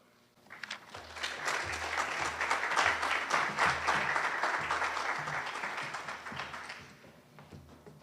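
A school hall of fame induction audience breaks into sustained applause, rising quickly and holding steady for several seconds before fading.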